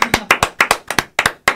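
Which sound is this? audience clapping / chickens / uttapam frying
audience clapping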